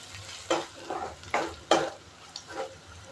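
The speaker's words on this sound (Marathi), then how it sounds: "आता आपल्याला अद्रक लसणाची पेस्ट टाकून घ्यायची आहे" Crushed ginger-garlic paste, pounded in a mortar rather than blended, fries and sizzles in a hot pan while being stirred, with several sharp bursts of hissing spaced about a second apart over a low steady crackle.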